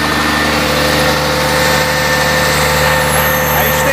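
A Munck truck crane's engine running under the accelerator, a loud, steady close-up drone with constant vibration and no clear rise or fall over the whole clip.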